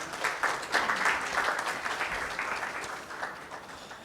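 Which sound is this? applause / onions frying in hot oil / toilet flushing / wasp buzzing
applause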